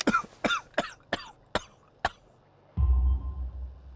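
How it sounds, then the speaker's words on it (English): A character in the video game Sherlock Holmes: The Devil's Daughter, with coal dust in his lungs, coughs harshly about seven times in a rapid series, then a low rumbling noise follows. "You have a severe cough."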